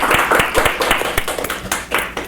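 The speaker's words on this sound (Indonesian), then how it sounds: "kasih tepuk tangan dulu untuk Pak Dandi" A small group claps for a podcast guest at the close of a conversation about the automotive world and a Suzuki dealership partnership, uneven close-up hand claps running throughout, loud and bright with a few stronger slaps.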